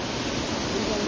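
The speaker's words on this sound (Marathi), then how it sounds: "तर तो बघा धबधबा मस्त आहे धबधबा" A waterfall at a Konkan monsoon outing, heard as a dense, steady rushing roar of falling water filling the brief moment, with voices faintly mixed in.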